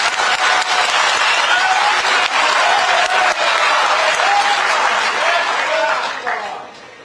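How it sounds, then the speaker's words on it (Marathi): Audience applause at a public inauguration and groundbreaking event in Mira Bhayandar, a dense roar of many hands clapping loudly for several seconds before fading out toward the end. "आता पुरुष आणि महिला सगळ्यांनी एकत्र टाळ्या तरी वाजवा किमान।"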